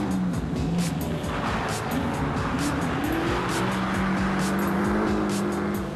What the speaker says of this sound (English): Intent on pleasing the fans, Mark Tierney and his 1965 Mustang put in this performance